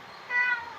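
A cat gives a single short, mid-pitched meow, fairly quiet and close, lasting under a second during a home lunchtime scene.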